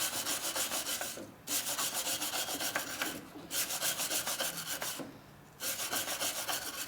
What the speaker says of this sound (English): So we have a power brush.